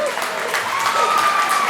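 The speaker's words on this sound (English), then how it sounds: "Come on, everybody clap." Audience clapping at an American Bully dog show award ceremony, a brief, dense, steady burst of many hands with a voice talking over it.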